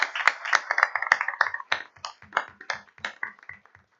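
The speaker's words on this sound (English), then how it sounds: "let's give Ms. Hamby a real round of applause" Applause at a school board of education meeting from a small group, with distinct individual claps in an irregular rhythm that thin out and fade within about four seconds.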